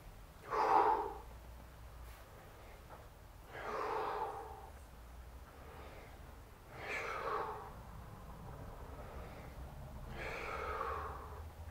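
Heavy breathing during a core abdominal and back workout, four loud, drawn-out exhalations a few seconds apart, close and breathy with quiet pauses between them.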